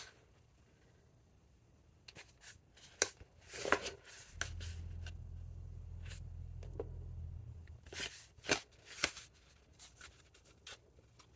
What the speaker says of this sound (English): I think I'm just going to cut this piece out to create the front of this.